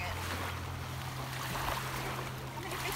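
Ocean surf washes up a beach shore in a steady, fairly faint rushing wash, with a low constant hum running underneath throughout.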